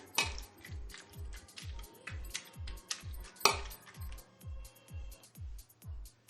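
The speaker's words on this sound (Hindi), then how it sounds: "अभी हम मैसर की सहायता से इसको मुलायम सा बनाएंगे।" Rhythmic soft squelching thuds repeat steadily, about two per second, as cooked mustard greens are mashed in a pot with a masher, with light metallic clinks.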